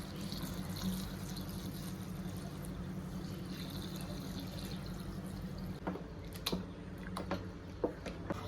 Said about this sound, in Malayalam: ശർക്കര പാനി ഒഴിക്കാം